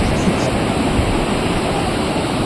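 Big ocean waves surging at Rushikonda Beach, a loud, continuous roar of surf with broadband wash and no breaks.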